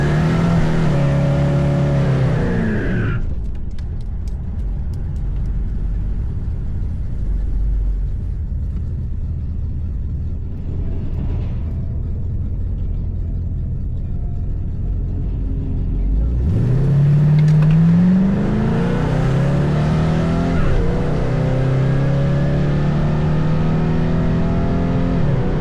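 A Chevrolet El Camino launches hard in a bracket drag race, its loud engine climbing steeply in pitch, dropping briefly into a quieter lull, then roaring again through rising revs up to a close, rumbling finish.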